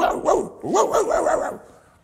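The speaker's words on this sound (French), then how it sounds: "le chien commence à aboyer" A small black poodle barking close by, a few sharp yapping barks in quick succession that fade out at the end.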